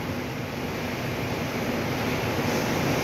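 Strong gusting wind during a typhoon in Legazpi City, Albay, a loud continuous roar buffeting the microphone with no break.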